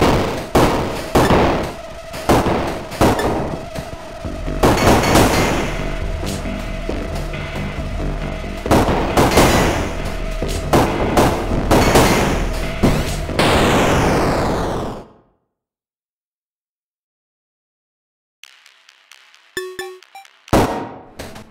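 Rapid bursts of gunfire from a heat-limited gun in the video game Overwhelm, dense and loud over a droning game soundtrack for about fifteen seconds, then silence before a few sharp shots and pings return.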